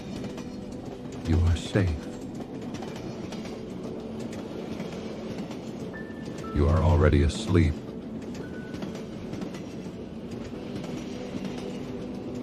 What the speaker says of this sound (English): The train will carry you all night.